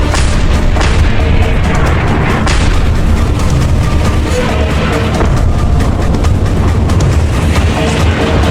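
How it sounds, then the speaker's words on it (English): Heavy gunfire and booming explosions from the video game Just Cause 2 as government soldiers shoot near an atomic submarine, a loud, dense, continuous barrage of blasts and rumble with no talking. "And those government thugs are shooting straight at you!"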